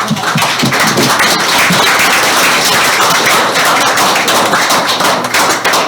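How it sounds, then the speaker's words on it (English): Loud, close clapping from the audience at a city council meeting, a busy rattle of many hands with sharp individual claps standing out, holding steady for the whole stretch. "Another round of applause."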